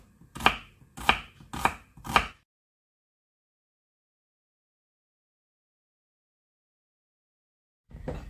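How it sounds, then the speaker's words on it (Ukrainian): A knife cuts through an onion on a board lengthwise, four crisp, evenly spaced chops close up, then silence before one more soft knock at the end. "І нарізаємо цибульку, але нарізаємо її навпіл отак."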